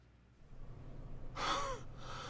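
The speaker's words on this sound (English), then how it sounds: "My own breathing is loud and in the deep silence you can only find at night." Heavy, ragged breathing from a player character in the horror game Spirit Hunter NG, a loud gasp rising out of night-time quiet after a sprint, followed by a second breath.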